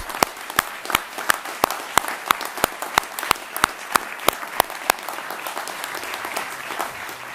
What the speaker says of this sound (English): please join me in a round of applause for these fantastic students